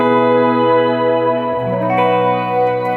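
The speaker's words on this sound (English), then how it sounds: "we got a shimmer setting going" EHX Oceans 11 reverb pedal set to shimmer, giving a sustained guitar tone that blooms into bright, octave-up washes of ambient reverb, steady and loud throughout with no voices.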